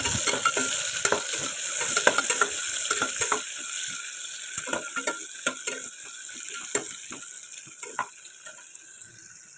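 Chopped onions frying in a little oil in a pressure cooker pot, stirred with a utensil: a steady sizzle broken by repeated sharp scrapes and clinks against the metal, close and clear.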